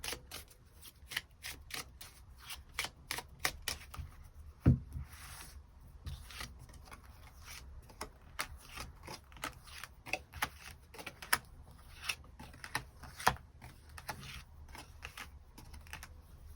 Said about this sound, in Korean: 일별로 월요일부터 일요일까지 어떤 하루하루를 보내게 될지 추가 카드 뽑아보도록 하겠습니다